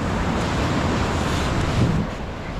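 Ocean surf on a beach rushes and breaks in a continuous, loud wash, with wind buffeting the microphone and a slight swell near the end.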